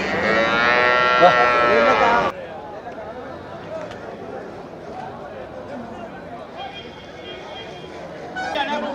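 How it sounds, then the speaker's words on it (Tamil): At the Melapalayam cattle market, a native cow gives a loud, close, drawn-out moo, then market chatter and voices carry on in the background. "இது நாட்டு மாடு"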